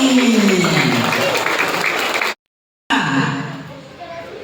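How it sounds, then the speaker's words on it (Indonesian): An audience at a school assembly applauds for Naomi, dense clapping throughout, broken by a brief gap of silence, then resuming and fading slightly. "Boleh tepuk tangannya buat Naomi"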